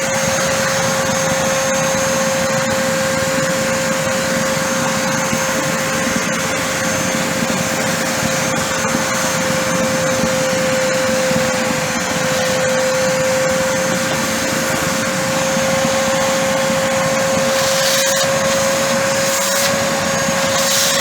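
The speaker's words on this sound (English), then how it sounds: "So I'm going to get the vacuum cleaner quickly." A Genesis water vacuum cleaner runs continuously indoors with a loud, steady whining drone and a constant tonal hum, holding level for the whole stretch with slight rushing variation.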